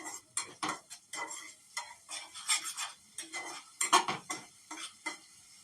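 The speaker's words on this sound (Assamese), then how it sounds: "গোটেইখিনি ধুনীয়াকৈ ভাজি ল'ম।" Food is fried and stirred in a pan on a home cooking show, with a utensil scraping and clattering in irregular bursts over a soft sizzle. No one speaks.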